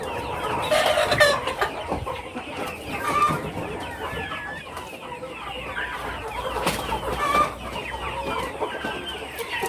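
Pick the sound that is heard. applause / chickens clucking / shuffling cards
chickens clucking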